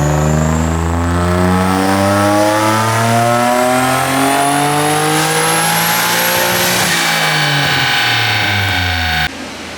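A turbocharged Nissan 350Z engine on a dyno pull climbs steadily in pitch for about nine seconds, loud and close with strong harmonics, then cuts off sharply near the end.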